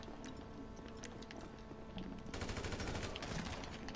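Dense automatic gunfire in a GTA 5 Online deathmatch, rapid bursts that thicken into a louder continuous fusillade partway through, heard faintly and without talk.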